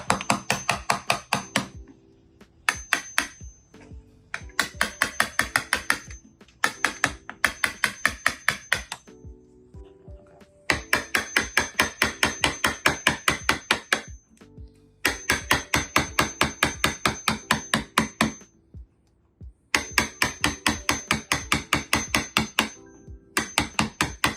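Rapid bursts of hammer strikes while shaving about an eighth of an inch off the edge of a jammed door, loud and close, in fast runs separated by short pauses.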